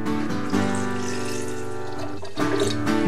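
Local apple cider poured in a steady, continuous stream, close and fairly loud, with a brief dip in the flow partway through before it resumes.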